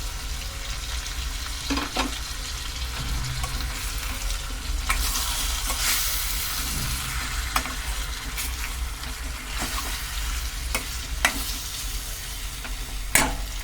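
Chopped tomatoes fry in a pan for chicken curry, giving a constant sizzle broken by repeated scraping and clinking strokes of a stirring spoon against the metal.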